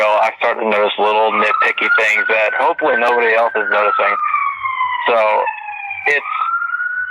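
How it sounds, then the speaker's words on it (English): A wailing fire department siren rises and falls steadily under someone talking, then continues alone, moderately loud and sounding a short distance away. "Sorry about the siren."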